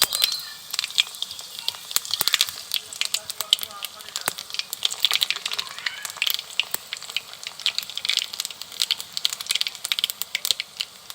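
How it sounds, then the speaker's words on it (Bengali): Dough balls fry in hot white oil in a wok, a close, steady sizzle with dense crackles and sharp pops throughout. "তেলটাকে বেশ ভালো করে গরম করে নিয়েছি, এবার বলগুলোকে ছেড়ে দেব।"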